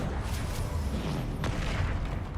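A Descendo spell slams an enemy to the ground in Hogwarts Legacy, a single low boom-like impact with a whooshing sweep amid continuous game noise and music.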